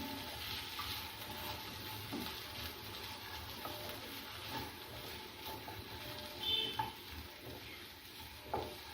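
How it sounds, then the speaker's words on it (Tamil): Potato pieces for a crispy potato fry sizzle faintly in a pan. Occasional soft scrapes and knocks of a spoon stirring them come through, quiet and close, with no voices. "அப்பப்போ மூடியை ஓப்பன் பண்ணி இந்த மாதிரி கிளறி விட்டுக்கணும், இல்லைன்னா அடி பிடிச்சிரும்"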